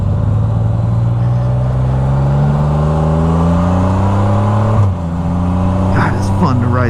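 A Can-Am Spyder F3 three-wheel motorcycle accelerates on the road with a steady, loud engine drone that rises in pitch, drops briefly at a gear change, then climbs again. Wind noise runs throughout, and a voice is heard near the end.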